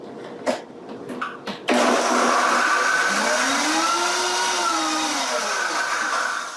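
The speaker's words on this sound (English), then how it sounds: "I've gone ahead and put this all into my Vitamix, my high-speed blender here, and we're just going to go ahead and get this combined." A Vitamix high-speed blender whirs loudly and steadily as it combines sauce ingredients made with coconut milk, after a few brief clicks and knocks, its motor pitch rising and then easing back down.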